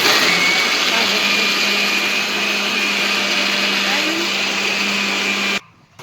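A kitchen mixer grinder runs with a loud, steady whirring drone while grinding muthiya, then cuts off abruptly near the end.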